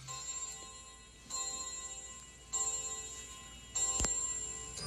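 A clock in an animated nursery rhyme ticks steadily with sharp metallic clicks, while a bright tone swells in four repeating rising bursts around it. Playback is moderately quiet and has no voice.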